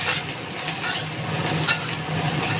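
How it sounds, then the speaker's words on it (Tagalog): Onions sautéing in a pan for a sardine and sweet potato leaf sauté, giving a steady close sizzle with light stirring scrapes throughout and no talk. "papunahin lang natin yung sibuyas"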